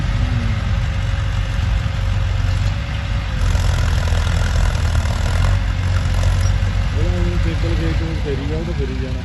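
A 4x4 tractor working in a field being cleared of poplar roots, its engine idling with a steady low rumble close by, under nearly continuous talk between several men.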